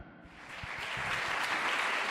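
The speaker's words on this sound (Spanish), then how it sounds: "Dale un fuerte aplauso al Señor en esta tarde" A church congregation claps for the Lord, the applause swelling from moderate to steady and fairly full across a short stretch, heard at some distance in a reverberant room.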